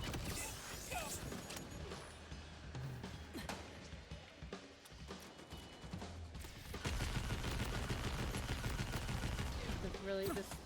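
An SMG fires in a video game, rapid repeated bursts of shots running through the whole stretch, getting louder and denser toward the end, over steady game noise.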